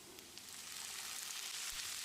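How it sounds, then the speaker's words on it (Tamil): Chopped tomatoes with a teaspoon of salt fry in a pan for a potato pepper fry, giving a steady, close sizzle that builds slightly and runs alone without talk. "1 டீஸ்பூன் உப்பையும் சேர்த்து தக்காளியை வதக்கிடலாம்"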